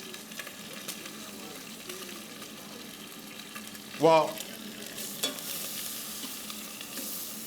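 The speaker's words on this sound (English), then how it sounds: "I'm not deep frying, I'm searing it. Got a little bit of fat." Chicken sears in a little fat in a pan, a soft steady sizzle with a sharp burst of hissing and clatter midway, while a voice talks briefly.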